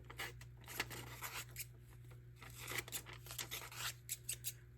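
Scissors snip through glossy magazine paper in quick, crisp cuts, close and quiet, in irregular bursts of clustered snips with short pauses and no talking.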